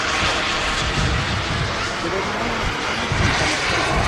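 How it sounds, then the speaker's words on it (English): Model sport jet flying at the Popham model air show: a steady, loud broadband turbine roar that holds evenly across the stretch, with a commentator talking over it. "There's a whole series in different sizes of these kind of sport jets."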